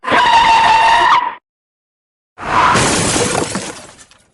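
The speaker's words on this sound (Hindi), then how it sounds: "मेरी गाड़ी यहाँ पे ठुक गई है?" A car crash on an Indian road: a loud sustained crunch with ringing glass for over a second, then a pause, then a second burst of shattering and scraping that fades out.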